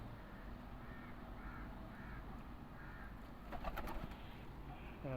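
Rampuri pigeons coo softly in repeated low calls, with a louder burst of bird calls and wing flutter near the end, against a steady outdoor hum.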